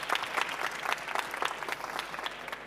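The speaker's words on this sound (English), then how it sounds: "Like a big round of applause." An audience at a conference session on stage claps in a brisk, dense round of applause that ripples with uneven bursts from start to finish.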